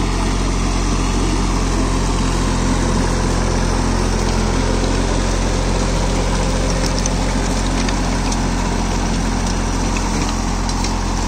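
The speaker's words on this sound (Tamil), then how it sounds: "22 HP மினி டிராக்டரு, 3 சிலிண்டர் இன்ஜினோட வருது" A VST 922 mini tractor's 22 HP three-cylinder engine idles close by, a loud, dense, unbroken rumble with a steady low throb and no talking over it.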